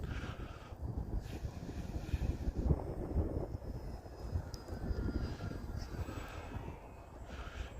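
An E-flite T-28 RC model airplane flying overhead, its electric motor giving a steady droning whine that stays fairly constant with mild wind noise over the microphone.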